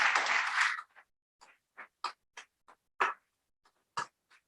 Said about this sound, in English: Please offer them a round of applause.